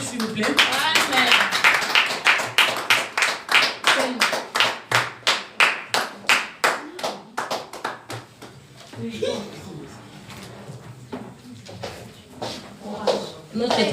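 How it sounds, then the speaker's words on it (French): A church congregation claps in time, with loud, rhythmic, evenly spaced hand claps that fade into scattered claps while voices speak over them. "Est-ce qu'on peut encore applaudir, s'il vous plaît?"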